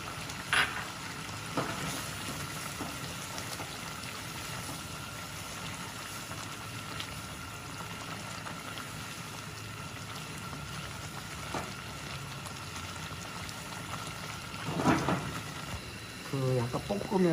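Food sautéed and stirred in a hot pan at a cooking demonstration, a continuous soft sizzle and bubbling with occasional scraping clatters of the utensil, heard steadily with light background noise.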